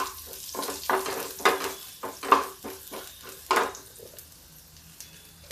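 Garlic and green chilies sizzling in a pan for village-style arhar dal: bursts of loud crackling sizzle, with intermittent stirring and scraping of the pan between them.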